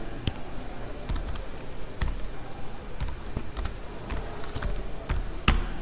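Someone types on a computer keyboard in sparse, irregular taps with short gaps between keystrokes, close and fairly quiet.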